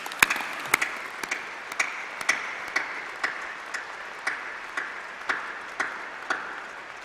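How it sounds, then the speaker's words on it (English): A graduation audience applauds at a university ceremony, a soft, steady wash of clapping with sharper individual claps standing out at a regular pace throughout. "Please give all those people a massive round of applause"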